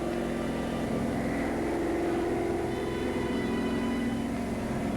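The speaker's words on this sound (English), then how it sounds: "German reconnaissance plane." A German reconnaissance plane flies during a wartime paratrooper film, its propeller engine droning as a steady, even hum throughout with no speech.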